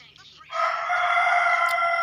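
Rooster crowing in PUBG Mobile gameplay: after a brief quiet moment, one loud, sustained crow rings out alone and fills the rest of the clip.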